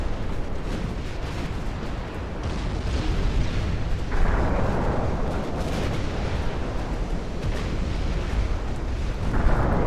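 Naval guns fire at the ship Majestic in the Ultimate Admirals: Dreadnoughts game, heavy cruisers engaging, producing continuous rumbling booms and overlapping blasts with a few sharper bursts, with no voices.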